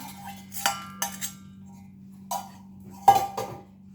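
A spoon knocks and scrapes against a pot while sugar syrup is mixed into gram flour and semolina for laddoos, a few sparse clinks and scrapes over a steady low hum.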